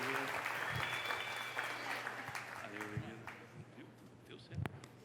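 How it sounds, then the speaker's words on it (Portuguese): Congregation applauding during a church service celebrating 50 years of profession of faith, a broad steady clapping that fades over the seconds, with a held sung or hummed tone and voices mixed in at the start and scattered louder claps near the end. "Vamos aplaudir o Senhor aí"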